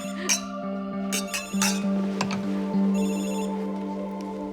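A telephone rings in repeated electronic tones, with a few faint clinks and clicks around it.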